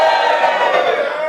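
A comedy club audience at the Backyard Comedy Club in Bethnal Green, East London, cheers loudly and all together in one sustained roar of many voices.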